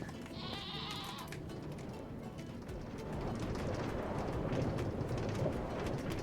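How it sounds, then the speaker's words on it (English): A screaming goat in Minecraft's Nether lets out a loud, harsh bleating cry early on, over a dense, noisy game background that grows busier toward the end. "I've got a screaming goat in the nether"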